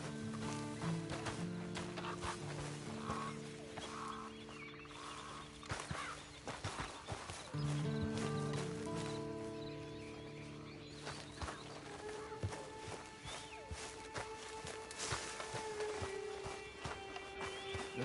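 Hooves clop steadily in Red Dead Redemption 2 as a horse walks, with occasional faint horse snorts or whinnies, distant birds and other ambient game sounds.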